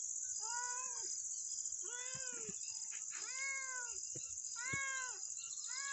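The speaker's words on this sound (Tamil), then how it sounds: "இது பூனை குட்டி போடுற மாதிரி இருக்குதுங்க" A domestic cat in labor with kittens meows loudly and repeatedly, four drawn-out plaintive cries close by, over a steady high-pitched whine in the background.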